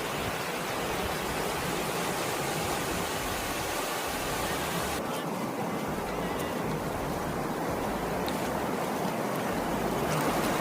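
A river in the Konkan flows by the bank in a steady, even broadband rush of water, continuous and fairly close throughout with no voices or other distinct sounds.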